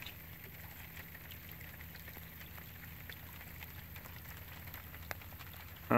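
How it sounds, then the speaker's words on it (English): Rain patters steadily over Pitt Lake, a soft, even hiss of drops on water heard close and fairly faint, with no talk. "Here's a nice and beautiful Pitt Lake in the rain."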